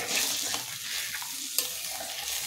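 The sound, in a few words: stirring turmeric and salt into hilsa fish curry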